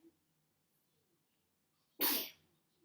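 One sharp, close sneeze bursts out of near silence in a quiet room during a geometry lesson, loud and brief with a quick tail-off.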